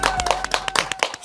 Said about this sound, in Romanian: aplauze pentru sărbătoriți